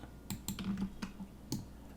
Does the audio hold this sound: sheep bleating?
no